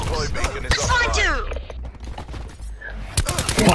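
Rapid sniper rifle gunfire and combat effects in the video game Black Ops 4, several loud sharp shots close by with game noise between them, and a voice talking over parts of it.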